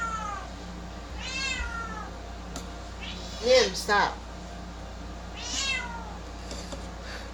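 Nim, a chatty pet cat, meows several times in a home kitchen during cooking. The drawn-out calls are close and fairly loud over a low steady hum, and someone briefly speaks to the cat.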